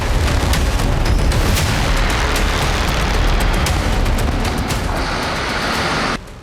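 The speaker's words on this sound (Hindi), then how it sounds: "तोपें आग उगल रही हैं।" Continuous heavy roar of artillery cannon fire and explosions in a war zone in Ukraine, dense and loud with overlapping blasts and crackling hits, cutting off abruptly near the end.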